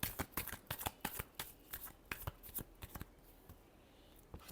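Tarot cards being shuffled by hand in quick, uneven riffling bursts, close and soft with brief pauses and a final few flicks, with no voice over them.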